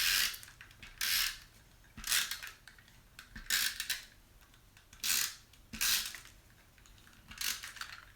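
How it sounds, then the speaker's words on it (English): A dry adhesive tape runner pulled along a paper doily, giving a series of short ratcheting, crackly strokes at a steady pace, about seven passes, close and fairly quiet, with no talk. "use my dry adhesive, my tape runner, and run it along this"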